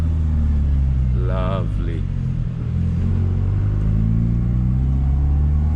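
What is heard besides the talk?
2006 Proton Savvy 1.2L car accelerating through gears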